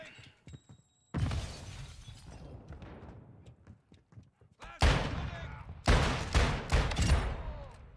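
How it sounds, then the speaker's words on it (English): Gunfire in Call of Duty during blind shooting at close range: a quiet opening, then several loud bursts and volleys of shots with sharp cracks, with voices talking between the bursts. "Blind shooting."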